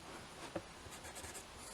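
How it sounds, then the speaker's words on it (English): A pencil marking wood while fitting a USB extension lead in an IKEA PAX wardrobe gives a faint, quiet scratch with one brief stroke near the middle, in a low, steady room background. "So mark it roughly with a pencil."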